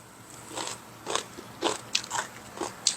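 Crisp, close bites and chews of stir-fried garlic scapes with shrimp, about half a dozen short crunches in an uneven rhythm with no talking.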